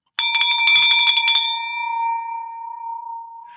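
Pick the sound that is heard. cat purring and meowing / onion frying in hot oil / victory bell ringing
victory bell ringing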